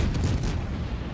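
World of Warships naval guns firing, a dense, heavy booming roar with a low rumbling tail filling the whole short moment.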